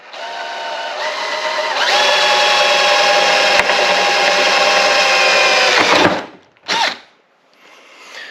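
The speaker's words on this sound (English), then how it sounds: "yeah, we're drilling a hole" A power drill bores a drain hole through the rusting metal base of an air conditioner, whining steadily and loud for about six seconds, then stopping with a short clunk and a brief second burst.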